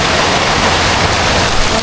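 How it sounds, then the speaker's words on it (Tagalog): Steady rain falls on an open farm field, a dense continuous hiss with a low rumble beneath, constant and fairly loud throughout with no voices. "umuulan na din sa bukid"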